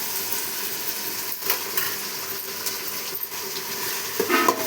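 Spatula stirring ginger-garlic paste with spices in a pan for an Andhra-style rice dish, a steady scraping and light sizzle throughout with a few brief metallic clinks near the end, no voices.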